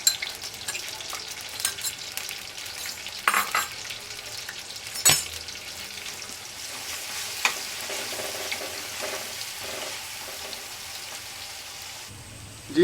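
Onion, garlic and ginger fry together in a pan for a Chinese chicken pulao, giving a steady close sizzle broken by occasional scrapes and knocks of stirring, with no talking.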